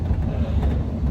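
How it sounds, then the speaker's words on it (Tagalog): Cold wind blasting against faces outdoors, a steady broadband rush with low rumble, continuous and close, no clear talk over it. "Yung hangin ba na tama sa mukha namin, sobrang lamig."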